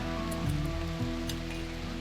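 Rain falling in the colony game Rimworld, a steady wash of patter over a low background of game music tones, with no voices.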